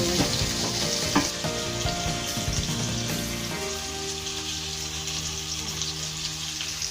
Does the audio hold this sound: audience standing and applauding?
no